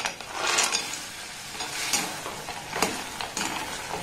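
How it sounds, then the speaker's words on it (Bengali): Fried sweets are stirred in thick sugar syrup in a pan over low-medium gas, with bubbling sizzle and repeated scraping strokes of a spoon, close and fairly loud, without talk. "এগুলো শিরার মধ্যে এইভাবে দিয়ে কিন্তু নাড়াচাড়া করে নেব।"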